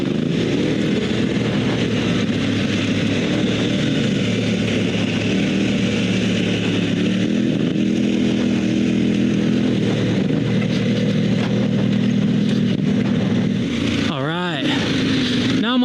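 A KTM 1190 adventure motorcycle fitted with a rally tire drones steadily along a dirt road, its engine a continuous loud hum with a rising rev near the end.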